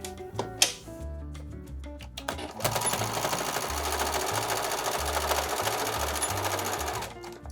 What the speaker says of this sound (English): we're just going to stitch a straight line from point to point, and we're going to backstitch at each end for each dart